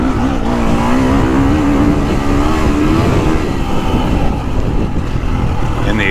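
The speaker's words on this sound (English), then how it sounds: "And the exhaust, it just chews up everything so nice." KTM 350 four-stroke dirt bike engine and exhaust on a slippery track, a loud close continuous roar with a rising and falling pitch as the rider works the throttle, with no talk over it.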